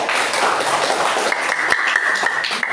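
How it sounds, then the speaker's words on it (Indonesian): Classroom applause from students during a civics lesson on legal awareness, a loud continuous patter of many hands filling the clip, with a faint tone and a few sharp claps standing out near the end. "Kasih tepuk tangan dulu."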